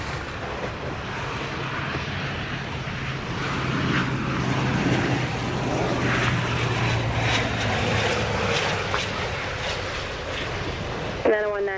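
A jet airliner landing on runway 07 in Jamaica makes a steady, broad engine roar that swells in the middle and holds, heard at a distance with some background voices.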